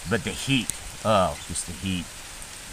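Rain falls steadily on a sunny garden planted with tomatoes and peppers, a soft continuous hiss running beneath a person talking throughout.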